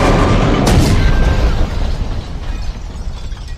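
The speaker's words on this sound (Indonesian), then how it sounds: "Tiba-tiba sebuah mobil menabrak hingga terjadi ledakan besar" A car crash followed by a big explosion in the film M3GAN: a loud, close blast with a sharp burst near the start, then a rumbling roar that slowly fades away.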